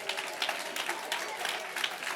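Congregation at a church conference applauds, a short steady patter of clapping with a few sharper claps, a voice faintly mixed in.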